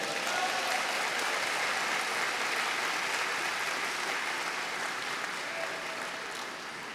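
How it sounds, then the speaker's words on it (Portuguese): Steady audience applause at a lecture fills the whole stretch, a dense, even patter of many hands clapping that eases slightly toward the end, with no voices over it. "Uma salva de palmas para eles, né?"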